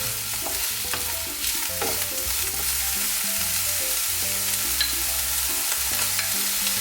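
Vegetables stir-frying in olive oil in a hot pan, a continuous loud sizzle with scraping stirs and soft clinks of a utensil recurring throughout, no voices.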